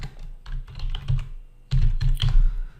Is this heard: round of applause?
no